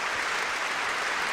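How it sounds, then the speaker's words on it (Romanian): Dense, steady applause from a concert audience at a 60th-anniversary celebration concert for a Romanian artist, a continuous wash of many hands clapping at even loudness with no voices. "ia uite câte kilograme vin acum de aplauze."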